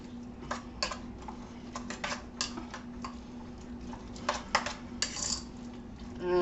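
Lasagna filling stirred in a bowl, with irregular clinks and taps of utensil against the bowl, close and fairly crisp, with no talking.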